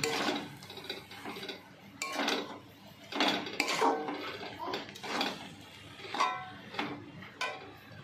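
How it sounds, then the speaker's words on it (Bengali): Sanche greens with salt being stirred in a pan, a spatula clanking and scraping against the metal in quick irregular strokes, close and clear. "এবারে ভালো করে একটু নাড়াচাড়া করে নিচ্ছি।"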